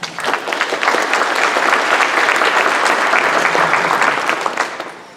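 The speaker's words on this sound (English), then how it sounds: "let's give them a round of applause" An evening community meeting audience applauding its hosts, dense steady clapping from many hands filling the room, sustained and fairly loud, fading slightly at the end.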